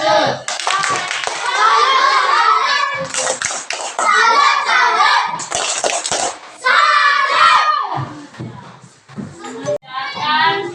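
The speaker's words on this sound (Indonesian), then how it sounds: "Ya, tepuk tangan." Bursts of hand clapping fill a classroom, mixed in with children talking and calling out close by, the claps coming in short spells between the voices.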